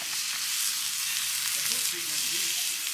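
Minced meat sizzles and fries steadily in a pan over a campfire, a constant close hiss with faint stirring scrapes and no talk.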